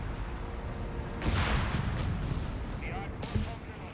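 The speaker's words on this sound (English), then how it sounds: "Now under cover of a lot of artillery, British forces are now advancing here" Artillery fire in Company of Heroes 3, several heavy shell blasts landing across a noisy battlefield, with commentary voiced over it.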